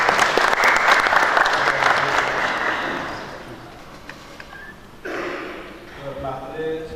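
An audience at a book launch claps loudly for about three seconds, then the applause fades out and a few voices and rustling follow.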